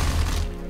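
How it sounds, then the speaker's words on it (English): A brief, loud mechanical clack and thud of a weapon being reloaded in a sci-fi mech top-down shooter video game, a single sharp effect that quickly fades. "There's the reload sound"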